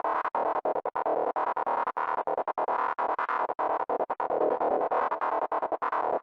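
A distorted FM synth in Pigments plays rapid choppy notes, with dotted eighth ping-pong delay repeats bouncing back and forth in a continuous, dense pattern.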